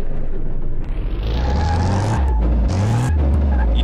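A Volkswagen Beetle fitted with a Porsche turbo engine drives over a speed-bump test in Car Mechanic Simulator, its engine loud and close, revving up in repeated rising pitch sweeps with brief drops between them, no talking.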